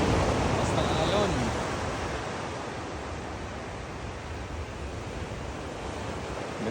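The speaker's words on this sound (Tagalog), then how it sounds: "Basta alon." Ocean surf rolls onto the shore at Mandurah in a continuous broad roar, with wind buffeting the microphone throughout.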